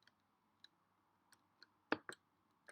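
Calculator buttons are pressed in a quiet room, giving a handful of sparse, soft clicks followed by a couple of sharper, louder taps near the end.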